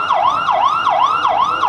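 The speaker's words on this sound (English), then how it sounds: "About this time, a siren was heard." A siren sound effect in a stage melodrama gives a loud, fast, repeating up-and-down wail, five even cycles with no talk over it.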